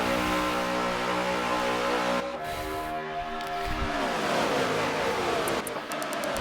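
Race cars roar back to green flag racing, loud engines sweeping past in overlapping waves of rising and falling pitch as the pack accelerates, with a continuous, dense motor drone throughout.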